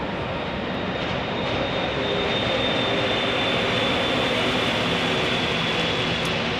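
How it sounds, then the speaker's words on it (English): An American Airlines plane bound for San Antonio at Phoenix Sky Harbor International Airport gives off a loud, steady jet-engine roar that holds throughout, close and with no voices over it. "All right, this American Airlines going to San Antonio."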